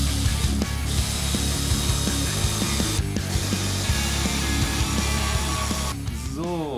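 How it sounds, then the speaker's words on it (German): A power screwdriver drives a screw into a DIY IKEA shisha hose holder, producing a rapid ratcheting clatter that runs almost continuously, with brief pauses and a short whine-like sweep at the end. "einfach mit ordentlich Druck hier die Schraube rein"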